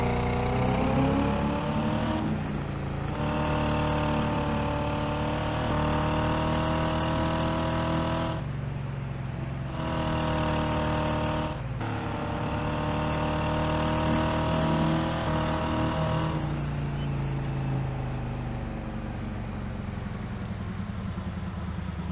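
In Farming Simulator 22, a car fitted with an L67 engine drives along with a steady engine drone that repeatedly revs up through the gears, briefly drops off at each shift, and then climbs again, close and loud, with no talking.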